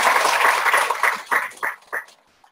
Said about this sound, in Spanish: te damos un muy caluroso aplauso